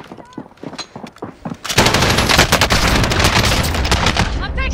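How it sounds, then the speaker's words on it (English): Dense automatic gunfire erupts in a Call of Duty Warzone match, continuous loud bursts after a stretch of quieter game sounds and talk, with overlapping shots filling the last three seconds. "I'm taking fire!"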